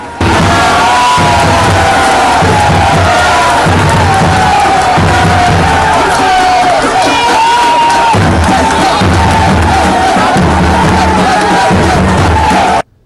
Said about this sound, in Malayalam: പറഞ്ഞു വെച്ചതുപോലെ കയ്യടിയും മുദ്രാവാക്യം വിളിയും ക്യാമറ ഫ്ലാഷുകൾ മിന്നിമറയലും